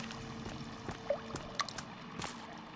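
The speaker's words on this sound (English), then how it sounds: "drips are awful, man." Water dripping in a dark cave in the survival video game Sons of the Forest: scattered single drips at irregular intervals over a low, steady ambient drone, moderately loud with no talk.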